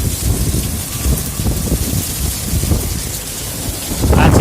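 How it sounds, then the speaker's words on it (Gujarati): Heavy rain pouring down during a thunderstorm in a Gir village, a loud steady roar of rain with deep rumbles of thunder and a stronger burst at the end. "જોઈ લો વાવાઝોડું કેવું છે."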